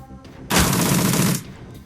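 An automatic rifle fires a rapid burst in the tactical role-playing game Shadowrun: Dragonfall, a loud dense stream of shots lasting under a second after a quiet lead-in, then fading.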